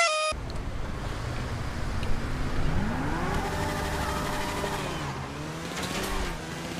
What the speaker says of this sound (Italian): Ci ha raggiunto l'auto.